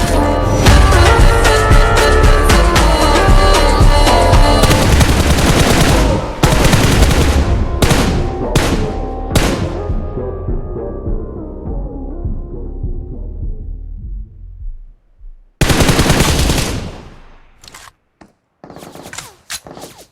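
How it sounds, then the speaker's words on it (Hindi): Rapid automatic gunfire from the mobile battle royale game BGMI, loud dense bursts that gradually thin and fade, then a few sharp isolated shots after a brief silence, with no talking. "तभी लेफ्ट से बुलेट की साउंड आती है।"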